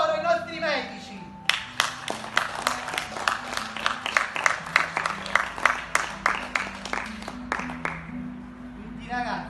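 Rhythmic clapping for doctors, sharp close claps in a steady beat lasting several seconds, with a voice heard just before they start.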